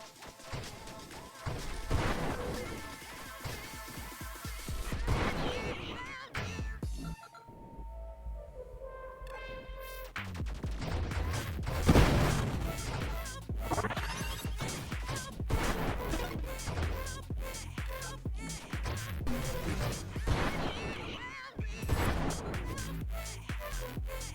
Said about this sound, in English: Seems like it just does a splinter when I fire it.